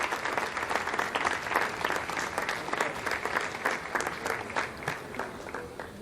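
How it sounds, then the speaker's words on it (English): Sustained applause from a room full of people in the Jupiter Control Center after an Arianespace launch, dense and steady clapping throughout with a faint murmur of voices mixed in, no distinct words. "Lots of applause here in the Jupiter Control Center."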